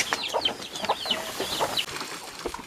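Chickens cluck in a village yard, a run of short, close, irregular clucks and chirps over soft background noise.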